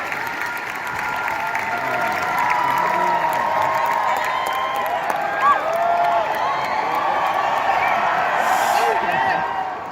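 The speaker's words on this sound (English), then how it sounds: "Everybody's cheering" A large convention crowd cheers and applauds during the Episode 9 trailer reveal at Star Wars Celebration in Chicago, a loud, sustained roar of clapping and whoops with voices mixed in throughout.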